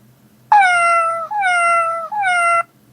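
Cat meow sound effect from Game Maker, played on a loop: three drawn-out, clear meows in a row, each following straight after the last, loud and close with no other sound.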